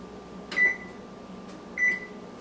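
An oven control panel beeps as it is set to preheat to 350 degrees for homemade cinnamon rolls: two short, clear electronic beeps about a second apart over a faint room hum, with no talking.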